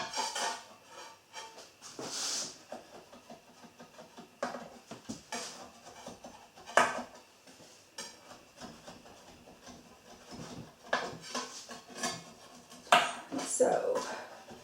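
A utensil scrapes and taps around the sides of a metal pan of baked pumpkin pecan bread, producing scattered close scraping strokes and light clinks with quiet pauses in between.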